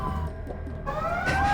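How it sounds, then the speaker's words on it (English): An emergency vehicle siren wails steadily in the background, its rising tone fairly loud and continuous over a low rumble. "Sorry about the siren. I can't do anything about that."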